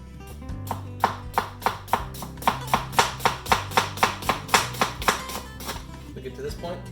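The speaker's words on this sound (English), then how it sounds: "Now for a julienne cut, we're going to go around the onion like a big old rainbow." Knife julienne-cutting an onion on a board, a steady run of about twenty crisp, evenly spaced chops, close and clear, over a low background hum.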